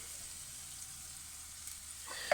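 Chopped tomatoes from a tin tipped into a hot pan for a sausage, fennel and chili ragu, giving a steady, even sizzle that continues alone throughout, with a small clatter at the very end.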